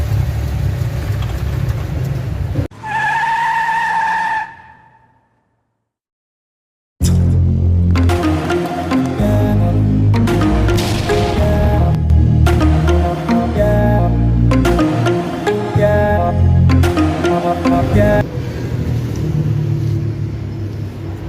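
Manual-transmission car with a noise from underneath during its first drive: a short whining tone and a gap of silence, then a loud, rumbling engine and drivetrain running with uneven surges.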